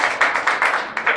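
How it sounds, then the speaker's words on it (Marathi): Audience clapping for a film director at a film school inauguration: a brief run of distinct, rhythmic hand claps, loud and close, with no voices over it. "आपण सगळे पुन्हा एकदा संजय जाधवसाठी टाळ्या वाजवूया"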